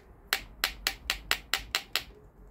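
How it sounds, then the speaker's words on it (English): A socket strikes a part on a PT Cruiser that cranks but won't start, giving eight sharp metallic taps in a quick, even rhythm, close and loud against a quiet background. "Let me try hitting it, see what happened."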